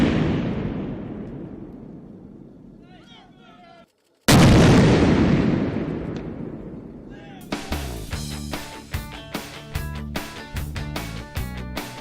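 A Marine combat engineers' breaching charge goes off with a loud, sudden blast whose rumble decays over several seconds, followed by a second heavy boom and long fading roar, then rhythmic music takes over.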